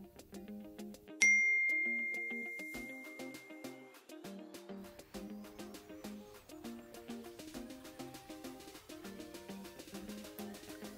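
A phone's text message notification chime sounds as a single bright ding that rings out and slowly fades over soft, steady background music, with no speech.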